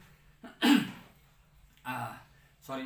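A single sharp cough, followed by two softer throaty bursts, close up in a quiet room.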